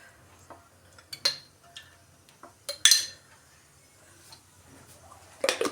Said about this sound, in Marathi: आता रवा भाजून घेणार आहोत आपण।